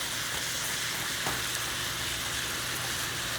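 Ground beef sizzles steadily in a hot pan during a cooking class, a loud continuous frying hiss with faint scraping as the meat is broken up.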